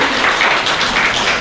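A church congregation clapping to thank God, a dense continuous wash of many hands applauding together at close range.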